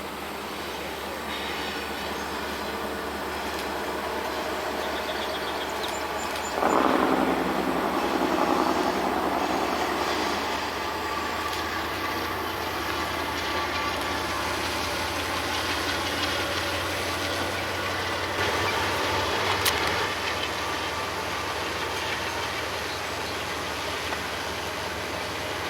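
Norfolk Southern freight train 28X rolling past on the Pittsburgh Line, a long, steady rumble of diesel engines and clattering railcars, loud and close, with a brief louder surge and occasional wheel squeals.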